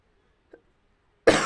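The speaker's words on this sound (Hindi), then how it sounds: "थोड़ी सी खांसी हो गई है" A man coughs once, close and loud, near the end of a quiet moment, following a faint earlier throat sound; he has a slight cough from Holi.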